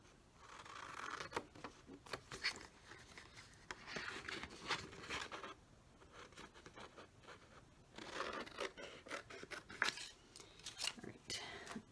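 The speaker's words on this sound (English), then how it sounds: "and then I'm just going to trim around the picture." Scissors snip paper quietly close up, trimming around a picture on a Christmas card in repeated short bursts of crisp cuts with brief pauses between them.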